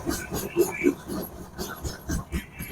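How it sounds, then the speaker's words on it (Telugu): Lokmanya Tilak Express, running from Vijayawada to Mumbai LTT, rolls along at speed, heard from inside a coach as a steady low rumble with soft rhythmic pulses beneath a person talking. "ట్రైన్ వచ్చేసి బాగానే స్పీడ్ గానే వెళ్తుంది"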